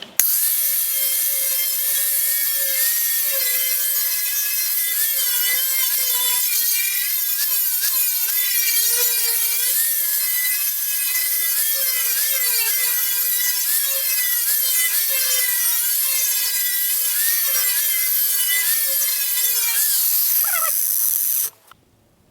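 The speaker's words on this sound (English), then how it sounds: "We'll just go ahead and grind this down and one warped sheet metal panel coming up" An angle grinder works on a warped sheet metal panel from a 1956 Volkswagen Beetle, a loud continuous high-pitched whine with a wavering tone for about twenty seconds before spinning down abruptly.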